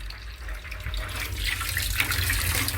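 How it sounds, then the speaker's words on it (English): Water runs steadily from a garden hose fed by a low-pressure municipal line into a 55-gallon drum outdoors, a continuous splashing pour that grows slightly louder and fuller toward the end, with no talk. "Got some water flowing."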